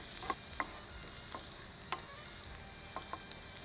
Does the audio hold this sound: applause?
no